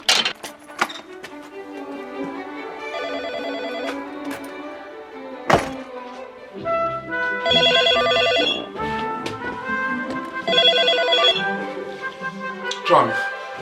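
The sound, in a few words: telephone ringing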